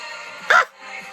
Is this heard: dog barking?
yes